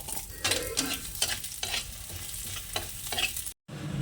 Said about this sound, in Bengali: মুগ ডালটা দিয়ে একটু ভেজে তেল দিয়ে দিয়েছি একটু ভেজে নিই